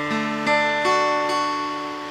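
A guitar chord is strummed in a few quick strokes, its notes ringing together and sustaining clearly before slowly decaying.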